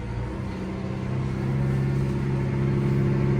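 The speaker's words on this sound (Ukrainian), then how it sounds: "Дуже-дуже великі обороти" A Massey Ferguson tractor engine holds a steady, droning high-rev tone, loud and close with strong even harmonics, the pitch rising slightly at the start and then staying constant.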